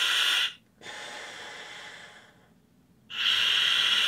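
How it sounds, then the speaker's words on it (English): A scuba diver in a full face mask draws deep breaths through the regulator with the ambient breathing valve closed, producing loud, hissing inhale-exhale cycles separated by quiet pauses, heard alone and up close. "he's just going to give that four good deep breaths"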